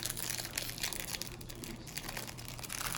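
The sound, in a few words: opening LOL Surprise doll packaging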